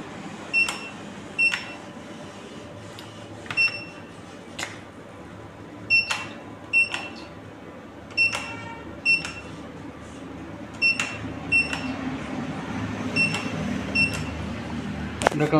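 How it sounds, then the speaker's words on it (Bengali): Keypad buttons pressed on an Indian Bank ATM while setting a four-digit PIN, a series of short beeps in a steady rhythm, loud and close over a low machine hum. "আমি এখান থেকে চারটে সংখ্যা বসিয়ে দিচ্ছি।"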